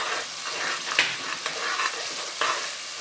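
Coriander being stirred into a curry in a pan, with green onion already added; a steady sizzle runs throughout, broken by a few sharp scraping strokes of the spoon, close and fairly loud, no voices.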